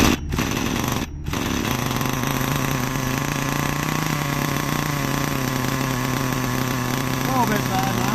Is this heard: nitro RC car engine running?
yes